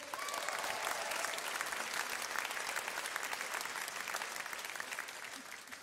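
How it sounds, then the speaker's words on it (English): A comedy grand-final crowd bursts into a dense, steady round of applause that holds at full strength for several seconds before easing slightly at the end. "Big round of applause for that."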